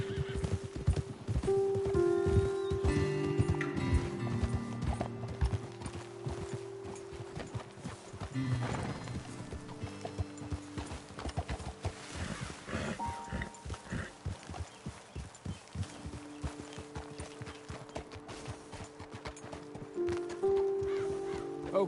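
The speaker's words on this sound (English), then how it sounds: "Best leave the horses back a bit." Horses walk along a road in the Red Dead Redemption 2 video game with a steady clip-clop of hooves and occasional neighing and snorting, over ambient wilderness sound and background music.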